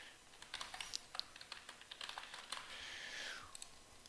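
Light, irregular keystrokes clatter on a computer keyboard in short bursts, close and quiet, with a brief soft sweeping sound partway through and no talk.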